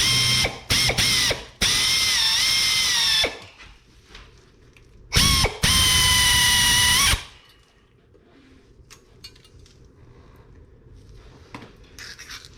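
A power drill driving out rotor retaining screws on a 2015 Kia Rio front brake, several loud bursts of whirring, two short, then a longer run, pause and another long run, followed by quiet tool handling.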